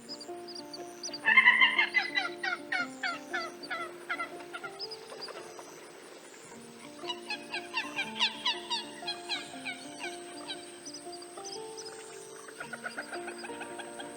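Soft, rapid clucking calls from a common gallinule foraging in wetland along the St Johns River, in several bouts, fairly close and clear against a quiet background.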